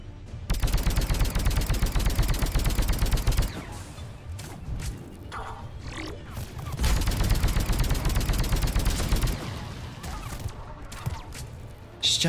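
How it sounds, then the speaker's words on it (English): Sustained automatic gunfire in Mass Effect 3 aimed at the player, dense rapid bursts in two long loud stretches separated by a brief lull, with scattered shots and impacts between. "Stop shooting me."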